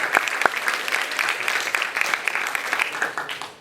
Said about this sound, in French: Je vous demande un tonnerre d'applaudissements pour Stéphane Sérac